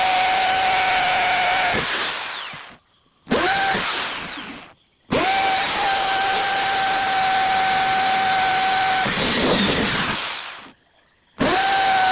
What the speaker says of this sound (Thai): ผมเจาะใหม่เลยนะครับ